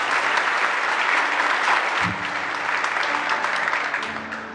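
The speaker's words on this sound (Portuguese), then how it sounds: "Pode dar uma linda salva de palmas para Jesus Cristo" Strong, sustained applause from a church congregation during a Catholic Mass, steady dense clapping filling the space and fading slightly toward the end.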